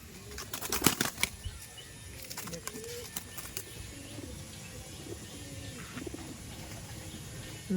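Kolkata Kaldom pigeons give soft, low coos at intervals, with a few sharp bursts of wing flapping early on, all fairly quiet and close.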